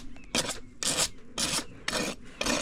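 A farrier's rasp files a bevel on a horse hoof that has a toe crack: five even, rhythmic scraping strokes, close and clear, with short pauses between them.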